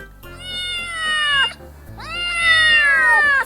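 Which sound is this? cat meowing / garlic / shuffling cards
cat meowing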